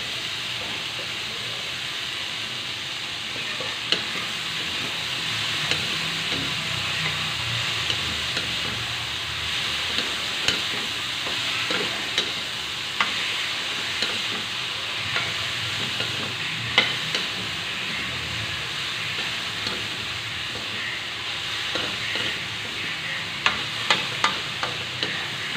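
Broccoli sautéing in a pan, a steady close sizzle and frying hiss with scattered clicks and scrapes as it is stirred.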